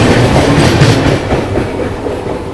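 Howrah Rajdhani express train passing at speed between Kanpur and Prayagraj, a loud, continuous rumble of rolling coaches with rhythmic clickety-clack of wheels over rail joints throughout.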